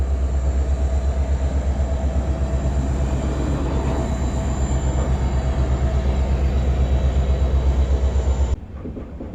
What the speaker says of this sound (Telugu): ఇది ఈరోడ్ జోగ్బాని అమృత్ భారత్ అండి, ఇండియా లాంగెస్ట్ అమృత్ భారత్